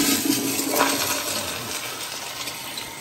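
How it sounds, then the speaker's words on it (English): Hotel toilet at a Hampton Inn and Suites flushing strongly, a close rush of swirling water that gradually settles into a softer refill hiss. "Good strong flush."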